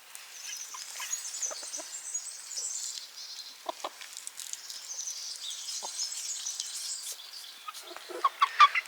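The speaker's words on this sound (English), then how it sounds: "Here's some chickens." Chickens on a homestead in Portugal cluck and chirp nearby in short, scattered bursts over a quiet background, with a few sharper calls near the end.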